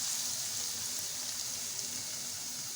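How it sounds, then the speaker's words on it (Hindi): Whole red and green chillies frying in oil: a steady, even sizzling hiss that holds at moderate loudness throughout, with no speech. "3 से 4 हमने लिए साबुत लाल मिर्च, ये ऐड कर देंगे"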